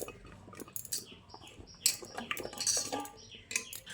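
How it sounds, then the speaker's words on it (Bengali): Cut pieces of bottle gourd being tipped into a metal pressure cooker, with close, light clinks and clatters of metal and scattered soft thuds coming in uneven bursts, no talking. "এবার আমি এই কেটে রাখা লাউগুলোকে একটা প্রেসার কুকারের মধ্যে ভরে নিচ্ছি"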